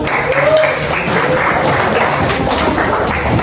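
A classroom of students gives a burst of steady, dense hand clapping that fills the room loudly and evenly for a few seconds, with a voice faintly present underneath.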